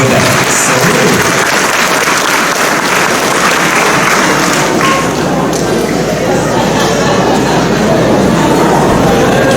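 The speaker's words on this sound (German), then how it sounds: "Wollen wir mal ein bisschen klatschen, Bruder?" Audience applause at a German Week joke-and-tall-tale contest, steady dense clapping filling the hall for the whole stretch without a break.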